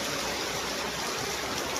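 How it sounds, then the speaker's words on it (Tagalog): Rainwater rushing past during a heavy downpour, a continuous, steady hiss and gurgle of flowing water, close and even throughout. "Ito, dumadaan dito yung tubig oh."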